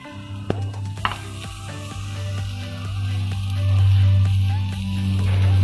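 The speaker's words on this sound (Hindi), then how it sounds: "अब हम इस पे बटर डालेंगे। बटर मेल्ट जब होता है तो इस तरह से हम फैला सकते हैं इसको।" Butter melting and being spread across a brown rice dosa on a hot pan, a steady close sizzle with faint scraping and a couple of light taps near the start.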